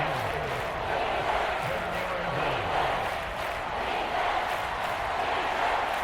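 A stadium crowd in the Madden NFL football game, Falcons against Commanders, keeps up a steady roar of noise on a third-and-goal play, with a commentator talking over it throughout.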